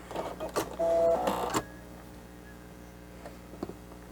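A sewing machine stitching a fabric face mask makes a short, loud burst of mechanical whirring and needle clatter as it back stitches off the edge, then drops to quiet with a few faint clicks.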